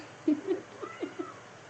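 A house cat meows indoors in a few short, soft, plaintive calls spaced across under two seconds, fairly close but quiet.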